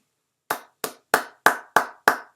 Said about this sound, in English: we clap you out